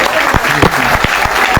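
Applause from a group at a thermal power plant tour, dense and steady throughout with sharp individual claps standing out close by.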